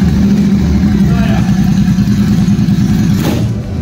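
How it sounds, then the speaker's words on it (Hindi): A loud Royal Enfield Super Meteor 650 engine running without an exhaust silencer idles with a deep, rough, steady rumble throughout, close by. "Now 650 is without silencer."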